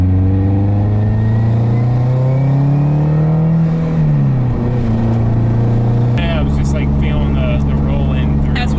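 A tuned Subaru engine revs loudly and close, its pitch climbing steadily, then dropping and settling into a hard, steady roar, while people talk over it.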